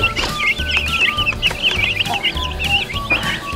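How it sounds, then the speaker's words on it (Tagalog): Native Brahma chickens cluck steadily up close, with soft repeated clucks and a few higher calls layered over a faint background hum. "Tapos ito naman yung yung mga manok natin, Brahma native."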